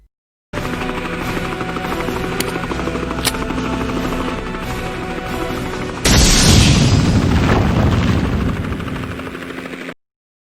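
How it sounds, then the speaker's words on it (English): A Resident Evil railgun blast tearing through the Umbrella office hits suddenly and loudly, breaking a steady helicopter-like drone with a roaring, rumbling explosion that swells and lingers before cutting off. "what if we had Jill take the railgun from the Resident Evil 3 remake and blew up the main Umbrella office with it?"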